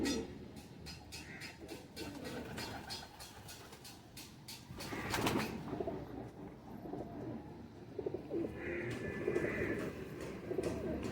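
Female pigeon cooing in soft, low repeated coos close by, mixed with other birds and handling noise in a busy pigeon-keeping setting, with no talk.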